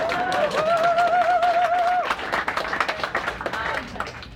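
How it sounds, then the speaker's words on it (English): Audience clapping during a Q&A, dense applause with a shouted cheer at first, then thinning into scattered individual claps that fade out. "So clapping for toppling the Confederate monument in Durham"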